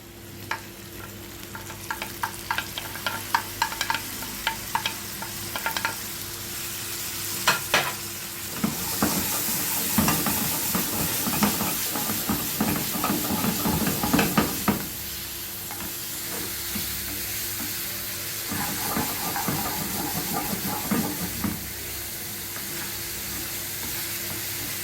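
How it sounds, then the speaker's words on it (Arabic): Mixed vegetables, including coloured bell peppers with sausage, sizzle and fry in a pan while being stirred, with steady hissing under irregular scraping and clattering strokes that come in bursts, strongest in the middle, with no talking. "نقلب كويس، نمكس كل الخضار مع بعض عشان التسويه تبقى واحده"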